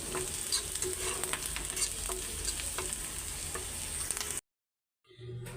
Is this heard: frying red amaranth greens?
yes